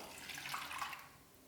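Water poured from a cup onto washed moong dal in a cooking pot, a short soft splashing pour lasting about a second, faint and alone.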